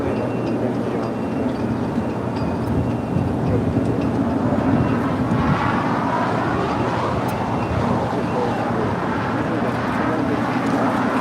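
A Turkish Airlines Boeing 777-300ER lands on runway 24R at LAX, a steady, broad jet roar sustained throughout, heard from a distance outdoors with faint talk mixed in.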